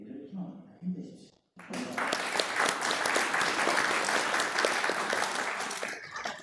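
Someone speaks briefly at a Korean lecture event, then after a short pause a large audience bursts into loud, sustained applause that holds steady and fades slightly at the end.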